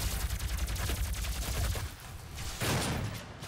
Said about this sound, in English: Oh, there's explosion.